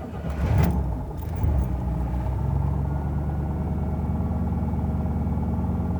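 A light blue 1964 Cadillac with a fuel injection system cranks over with the key, catching in a short burst and rumble before settling into a steady, even idle, close and alone.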